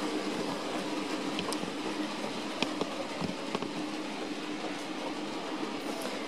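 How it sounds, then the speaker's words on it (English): Bachmann C Class DCC sound-fitted model locomotive in wartime grey running on a model railway layout, taking a corner toward a level crossing; a steady, close rolling rumble of small wheels on track with faint clicks throughout. "see the train just taking the corner"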